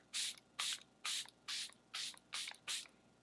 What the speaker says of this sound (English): I'm gonna set everything with the Charlotte Tilbury Airbrush Flawless Setting Spray.